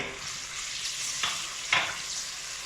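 Garlic and chili paste sizzles in a hot pan for shahi daal, a steady frying hiss with two brief louder spatters as it is stirred, close and without talk.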